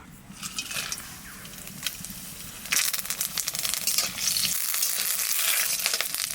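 Whole spices, cloves, cinnamon, cardamom, dried red chillies, black peppercorns and bay leaves, hit hot oil for a village-style mutton curry, hissing and crackling close, with the sizzle surging louder partway through and stirring scrapes.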